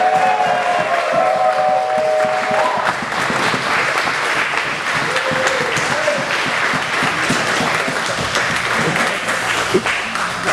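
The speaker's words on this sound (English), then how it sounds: "So let's get some big round of applause for Jen." Applause and cheering from a crowd at a 10th Planet Long Island jiu-jitsu belt promotion, celebrating a purple belt. Dense, sustained clapping stays loud throughout, with some voices mixed in.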